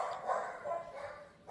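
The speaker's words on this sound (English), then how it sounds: "the dogs are barking" Dogs barking indoors nearby, a few moderately loud, clipped barks in a loose run, slightly muffled as if from another room, with no speech over them.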